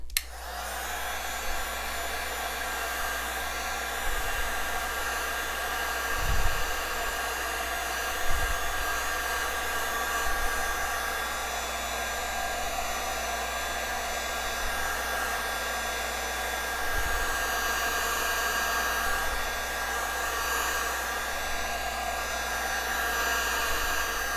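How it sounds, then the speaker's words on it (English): Loud, steady whooshing drone of a heat gun blowing hot air over resin on acrylic pour art runs nonstop, with occasional low thumps and bumps underneath, no voices. "I'm gonna use my heat gun to um, heat it up a bit and that way it moves easier"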